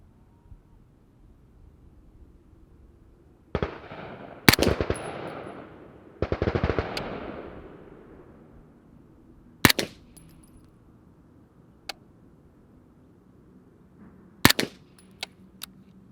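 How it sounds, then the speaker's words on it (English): An MPX firing three separate rounds at an outdoor range, each a sharp, loud crack with a decaying tail, spaced a few seconds apart, with other distant shots and faint range noise between them. "All right, I shot 3 rounds."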